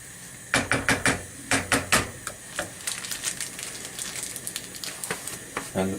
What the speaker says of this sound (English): I'll give it a proper stir.